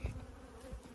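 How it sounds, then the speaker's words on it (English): Honey bees buzzing around a syrup feeder bucket in a steady, low drone, fairly faint, with a few brief louder passes close by. "you get a few bees in the feeders, I'm afraid"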